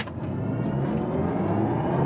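A BMW i4 M50 electric sedan surges forward under full acceleration in sport boost mode, a steady, rising motor whine and road rumble heard from inside the cabin, continuous and moderately loud without talk.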